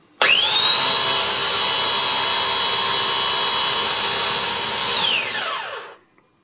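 A Philips Avent SCF870 combined baby food steamer and blender pulses its blade, rising into one loud, steady high-pitched whirring whine that holds for about five seconds, then spins down and fades out.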